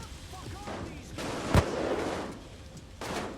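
A single sharp sniper rifle shot in the heist shooter Payday 2, a loud crack standing out briefly amid low game ambience and muffled background activity, with another duller report near the end.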